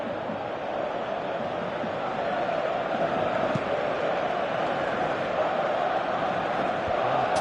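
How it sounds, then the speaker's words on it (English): A stadium crowd in the PES 18 football game keeps up a loud, constant roar and murmur, an unbroken wall of massed voices that holds steady from start to finish. "you can feel and hear how the crowd are reacting to all of this"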